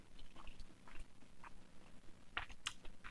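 Close-up bites and chews of a mushroom muffaletta burger, the mushroom flavored with soy sauce, olive oil and balsamic vinegar. Soft, moist chewing is punctuated by a few sharper crunchy bites near the end.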